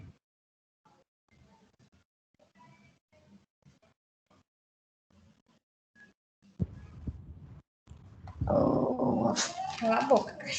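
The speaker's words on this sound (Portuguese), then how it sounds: "Cala a boca, cachorro. Já quieta aí." A dog whimpers and growls up close, first faintly beneath quiet speech, then loudly and continuously in the final seconds.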